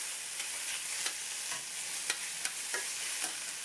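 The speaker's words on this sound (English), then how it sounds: "Now I like to toss them around as I cook." Onions and poblano peppers tossed in a hot frying pan, with a steady sizzle and a series of light spatula scrapes and clinks at irregular intervals, close and moderately loud, no voices.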